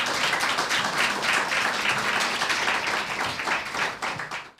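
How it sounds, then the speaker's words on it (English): Audience applause for guests at the launch of the radio station Griff FM 107.8, a dense, steady round of clapping close by that tapers off at the end. "Round of applause,"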